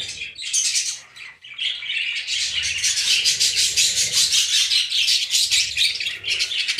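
Budgerigars in a rainbow budgie breeding aviary squawk and chirp continuously, a dense, bright chorus of overlapping calls that stays busy and loud throughout.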